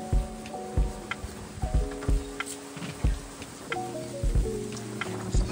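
Raindrops from a storm strike a surface in irregular nearby taps and plinks, some bright and ringing, over a faint steady background wash of wind-driven rain.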